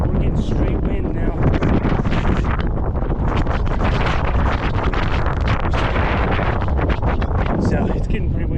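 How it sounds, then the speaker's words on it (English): Strong wind batters a microphone high on a mountain above a saddle in the clouds, a continuous loud roaring rush with gusty buffeting throughout and no break. "So it's getting pretty windy out here."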